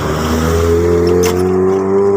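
A car engine revs loudly and steadily for about two seconds, its pitch climbing slightly and holding, with no voices.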